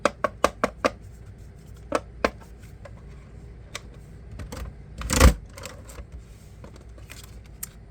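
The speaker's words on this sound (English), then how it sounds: "And now we have all of our holes punched." A Cinch binding machine punches holes through notebook pages with sharp mechanical clacks, a quick burst of several early on, a few spaced ones after, and one heavier crunching thunk near the end, with quiet gaps between.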